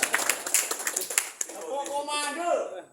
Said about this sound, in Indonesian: Kasih tepuk tangan dulu dong untuk komando